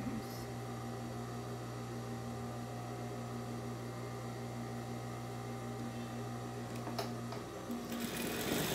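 A sewing machine runs in one steady, close mechanical hum for about seven seconds while it stitches a cloth doll, beginning with a backstitch, then stops, leaving faint handling noise.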